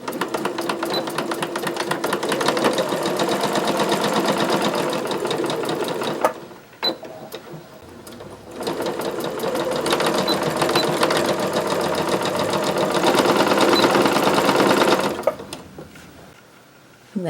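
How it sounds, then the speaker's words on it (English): A sewing machine runs in long, steady bursts as it stitches fall leaf pillow cover pieces together, pausing briefly midway before starting up again, loud and close with no talking. "I'm going to sew these two together."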